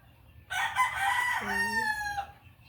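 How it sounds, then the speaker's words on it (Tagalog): A rooster crows loudly and close by, one long drawn-out call over a quiet background with faint clucking. "Ingay ng mga manok."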